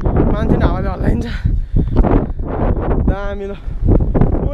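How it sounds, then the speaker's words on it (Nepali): Strong wind on a hilltop at Sailung in Nepal buffets the microphone with a loud continuous roar and gusty rumble, running under people talking. "मान्छे हावाले हल्लाइन्छ"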